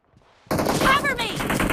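Sudden burst of rapid automatic gunfire in the mobile shooter BGMI, loud and close, starting after a brief quiet lead-in and continuing as a dense fusillade with a voice calling out over it.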